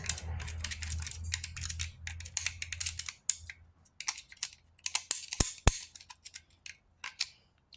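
A small screwdriver scrapes and clicks against the metal of a crankcase to clear dirt, in irregular sharp ticks and scratches close up, with a low hum under the first few seconds.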